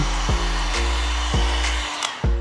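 A heat gun warms vinyl wrap film on a car near the headlight, giving a steady close blowing whir with a few soft knocks and handling sounds mixed in, and no talk.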